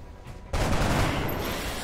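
Gunshot volley from an XCOM Long War squad taking turns on target, a dense burst of shots that kicks in abruptly after a quiet half second and stays loud and sustained to the end.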